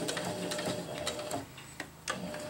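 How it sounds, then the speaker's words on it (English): A sewing machine stitches a jungle hammock tie-out, running steadily at close range with a rapid ticking needle rhythm, easing briefly near the end before picking up again. "And now I'll just sew up to where I started, and I'll lock my stitch again."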